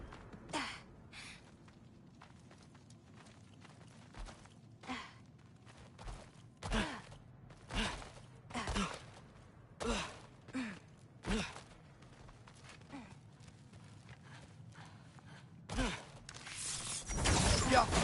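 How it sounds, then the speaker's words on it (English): A creature breathes in a dark cellar in God of War Ragnarok, slow heavy breaths and raspy gasps recurring every second or two against a quiet hum, ending in a harsher burst of noise. "I think I can hear something breathing near the back of the cellar"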